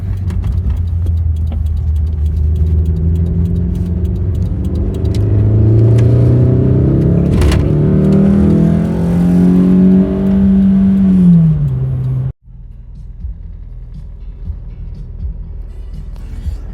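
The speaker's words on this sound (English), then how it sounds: "we're going to hear some raw 4AGE noises." A Toyota 4A-GE engine with upgraded cams in an MR2 revs hard and loud, pitch climbing and falling through several throttle blips before cutting off abruptly, leaving a lower idle rumble.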